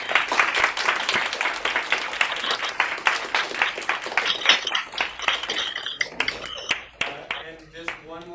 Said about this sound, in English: one more round of applause for our guests